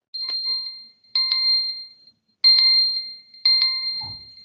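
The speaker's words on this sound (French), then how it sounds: "Baisse le téléphone quand ça sonne, s'il te plaît." A phone rings four times in repeated bursts of bright, bell-like electronic tones during a live sports talk stream on Ivorian football, each burst separated by a short pause; the tones sound clear and fairly loud, with a brief low thump at the end.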